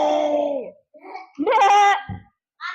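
A human voice imitates a goat bleating, giving a few short wavering bleats with brief pauses between them, close and fairly loud.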